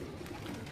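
Bater pigeons on a rooftop give a short, soft coo, faint and brief against quiet background noise.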